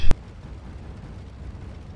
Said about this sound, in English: somebody just dropped a huge bomb